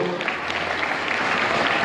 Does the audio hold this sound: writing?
no